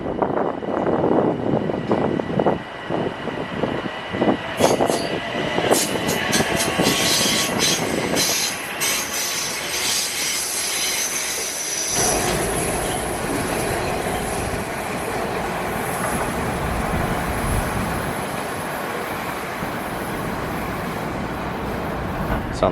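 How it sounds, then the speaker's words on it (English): A Metro North train in New York passes close by, loud rumbling wheels and clattering cars with sharp squeals and clicks, shifting into a steady roaring rush as the cars go by, no talking. "I can get a cool shot of the train from here"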